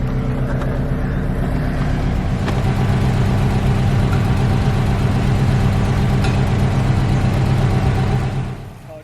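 A 2002 Subaru Impreza WRX STI with a turbocharged 2-litre four-cylinder idles close by. The steady, loud, rumbling drone holds even for most of the stretch, then fades out at the end.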